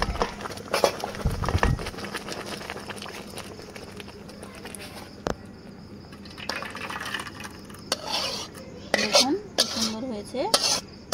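Metal pot of homemade tomato sauce lifted off a kitchen stove, with clanking of pan and utensils and scattered clinks, louder bursts of metallic scraping near the end, no talk.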